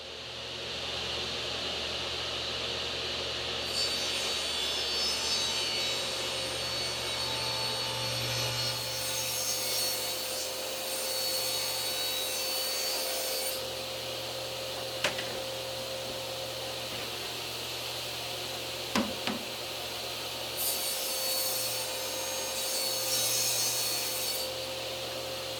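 Saw roughly cutting through a new wood sheet for kitchen cabinet drawers, a continuous rasping, rubbing stroke sound heard up close, with steady strokes and a couple of sharp knocks along the way.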